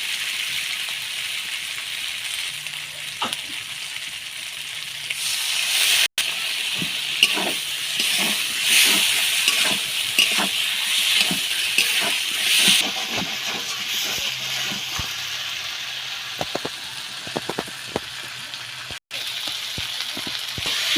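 Potatoes fry with ground cumin and coriander paste in a pan, a soft continuous sizzle and hiss with scattered ticks and scraping stirs, steady throughout.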